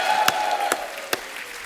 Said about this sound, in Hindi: जोरदार तालियां एक बार कमल सर के लिए।